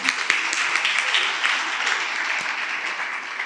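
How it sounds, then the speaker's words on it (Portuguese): An audience applauds for Ana at a career talk, a dense, even wash of clapping that holds at steady loudness for a few seconds. "Palmas para Ana,"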